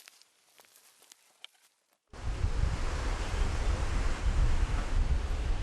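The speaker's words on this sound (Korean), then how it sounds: "금강산에 있는 폭포 중 가장 큰 규모로 유명한 구룡폭포" Guryong Falls at Geumgangsan, the largest waterfall on the mountain, comes in after a near-silent start with faint taps, then roars as a loud, steady, broadband rush of falling water.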